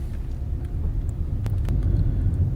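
Steady low road rumble inside a moving car on a trail drive, a continuous engine and tyre drone with a couple of brief faint clicks, no talking.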